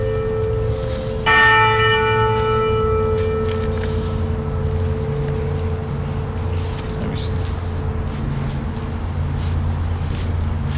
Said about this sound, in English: You hear? That's the bell call.